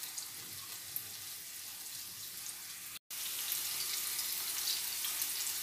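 Onions and garlic with salt sautéing in a pan, a soft continuous hiss of frying that cuts out briefly and then resumes at the same level.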